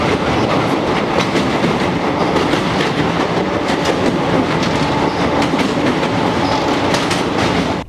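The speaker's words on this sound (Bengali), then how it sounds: "আমাদের ট্রেন আছে বারসই জংশন থেকে এখনও 26 কিলোমিটার দূরে" A passenger train runs on the rails some kilometres from Barsoi Junction, a loud continuous rumble with rhythmic wheel clatter and no talking.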